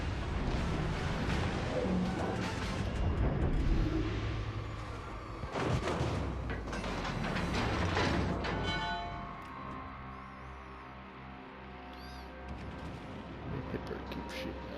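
Heavy naval gunfire from the enemy cruiser Hipper in World of Warships: Legends, a few loud booming blasts over a dense wash of battle noise and ringing, bell-like tones that thins out toward the end.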